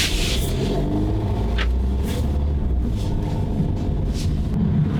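A 2023 Peugeot 308 pulls away, its engine rising in a steady, close rumble with some wind buffeting across the microphone, and no voices.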